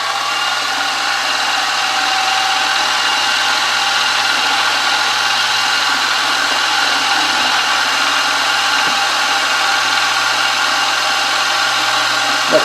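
A power drill bores into a wooden grasshopper engine base part, a steady, loud motor whine that holds unbroken for the whole stretch with no pauses.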